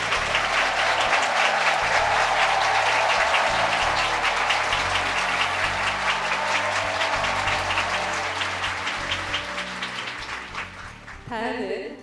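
Sustained audience applause greets former heads of state at a lecture on Korean peace, a dense, even clapping that gradually thins and fades toward the end.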